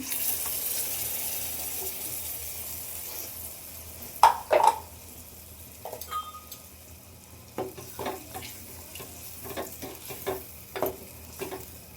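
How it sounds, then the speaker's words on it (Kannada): Ground masala fries in oil on low heat for an egg curry, a soft steady sizzle punctuated by scattered clinks and scrapes of stirring in the pan. "ಎಲ್ಲ ಹಸಿ ವಾಸನೆ ಎಲ್ಲ ಹೋಗೋಗಂಟ ನೀಟಾಗಿ ಚೆನ್ನಾಗಿ ಫ್ರೈ ಮಾಡಬೇಕು ಇದು ಎಣ್ಣೆಯಲ್ಲಿ"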